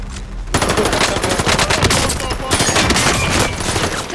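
Rapid automatic gunfire in a video game, a dense, loud barrage of overlapping shots that starts abruptly and continues almost without a break.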